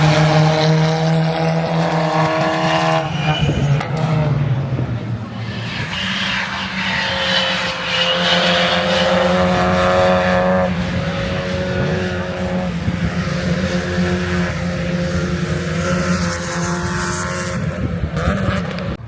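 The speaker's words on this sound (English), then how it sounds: "they're like touring cars, so they're coming around now. They make a brilliant sound." TCR touring cars racing past at Croft Circuit: a loud, sustained engine drone from several cars, with gear changes and shifting pitch as the pack passes close by, and no talking.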